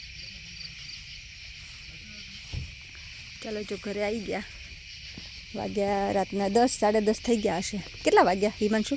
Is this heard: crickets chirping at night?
yes